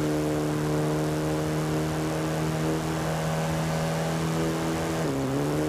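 A vintage Austin Healey Sprite race car in Forza Horizon drones at a steady high engine pitch, loud and sustained, then dips briefly as it shifts or lifts off near the end.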